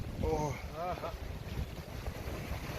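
Strong gale wind buffets a fishing boat off Somaemuldo, giving a steady roaring rumble with gusty microphone noise throughout. Voices speak over it briefly at the start.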